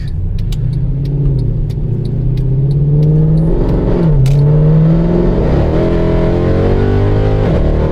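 A Mercedes C63 AMG M156 engine revs up and drops through downshifts, pitch rising and falling with blips between shifts, loud and close with road noise underneath.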